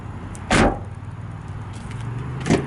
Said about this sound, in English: Hear what it sounds like when I close this door.